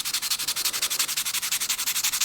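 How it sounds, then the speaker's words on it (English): Coarse sandpaper rubbed back and forth over a scratched watch crystal, a close, steady rhythmic scratching with fast even strokes throughout. "I've flattened the worst of the scratches off to some degree using the more coarse sandpaper"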